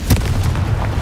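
A Confringo blast spell fired in Hogwarts Legacy gives a short, loud, booming burst with a deep rumbling body that sustains briefly, close and alone without voices.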